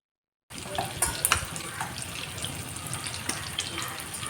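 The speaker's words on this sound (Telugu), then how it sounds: "రెండు ముక్కలుగా చేసిన ఎగ్గులని అలా వేసి మంచిగా ఫ్రై చేసుకోవాలి" Halved boiled eggs fry in oil in a pan for egg gravy curry, a continuous close hissing sizzle with light stirring scrapes and occasional spatters, starting abruptly after a short silence, no voices.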